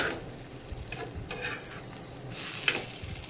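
Potato frankie roll cooking on a hot pan for street-style veg batata frankie, with a steady soft sizzle and occasional scraping or stirring sounds close by, no voices.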